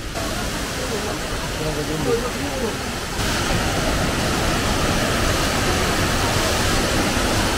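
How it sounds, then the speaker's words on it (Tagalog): Shifen Waterfall in Taiwan roars as a steady, broadband rush of falling water heard close by, loud and continuous throughout, with a slight jump in intensity partway through. "ganda ng falls. The Little Niagara Loto ng Taiwan."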